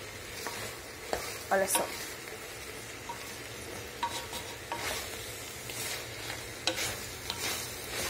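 Strogonoff sizzles in a hot pan while a spoon scrapes and stirs the browned bits loose, with intermittent scraping strokes over a soft steady fry; a voice speaks briefly.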